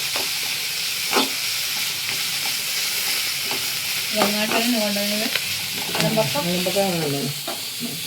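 Curry leaves crackle and sizzle in hot oil in a pan, with a constant frying hiss. Stirring scrapes are heard, along with brief tonal squeaks. There is no talk.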